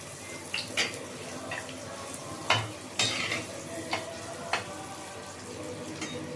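Kajjaya dough for the Varalakshmi festival frying in hot oil: a steady sizzle with scattered stirring clinks and light splashes, heard close.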